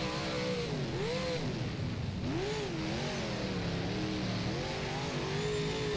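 Super Late Model race car engines at Talladega in the rFactor racing game roar steadily, pitch rising and falling as they rev and shift, a constant loud mechanical drone with no voices.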